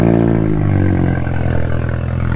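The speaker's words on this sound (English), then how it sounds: "I ain't hear this cold start in a minute." A Suzuki GSX-R 600 motorcycle engine cold-starts with a loud, close, steady drone whose pitch settles lower after about half a second, alone without talk.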